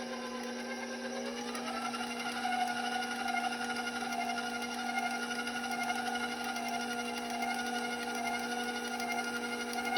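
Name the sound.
stand mixer mixing cream pie batter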